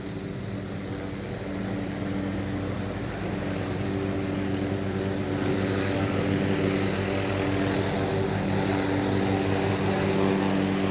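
A helicopter sits just after landing nearby outdoors during Hurricane Harvey coverage, its rotor and engine producing a loud, steady droning roar that holds constant and swells slightly over the whole stretch.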